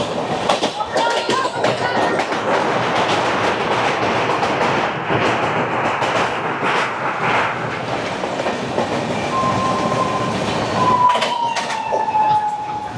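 The Poorva Express, a Howrah to Delhi passenger train, runs with a steady, loud rolling rumble and rhythmic wheel clatter. A thin, high wheel squeal rises near the end.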